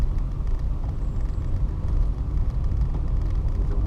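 A new hybrid car running on its electric motor alone with no gas engine, giving a steady low road and tire rumble throughout with no engine note.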